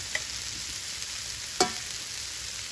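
Potatoes frying in a pan for a samosa filling, giving a constant, even sizzle with a single sharp scrape or knock partway through, close up and without speech.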